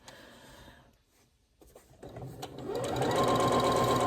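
A sewing machine stitches a gnome quilt block, starting with a few scattered clicks and handling noises before settling into a steady, close whirring run that builds and holds to the end.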